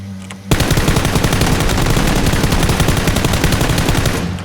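Rapid automatic gunfire in the battle royale game PUBG erupts after a half-second of quiet and runs as a dense, loud, continuous burst of shots to the end, with no talking.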